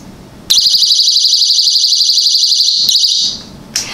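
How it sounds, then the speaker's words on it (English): A Sabre personal key ring alarm sets off a loud, piercing, steady shrill tone. It holds for about three seconds, breaks off briefly, resumes, then fades out. A short chirp follows. "It sets off a really loud ass alarm."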